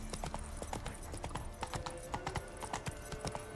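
Roach, Geralt's horse in the video game The Witcher 3, trots along in rhythmic clip-clop hoofbeats that are close and distinct, with a faint neigh and no talking.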